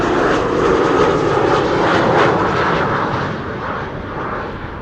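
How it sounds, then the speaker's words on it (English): A KLM jet airliner on landing approach after a flight from Frankfurt, watched at an airport during a live plane-spotting stream. A steady, loud roar of aircraft engines fills the whole stretch and eases off slightly toward the end, with no voices. "KLM flight 1818 arriving from Frankfurt."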